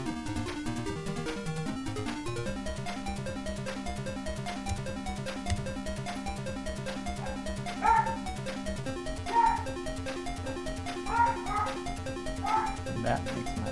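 A few angry dogs giving short bursts of barks and yips, spaced apart over a droning background tone, moderately loud, with faint talk mixed in.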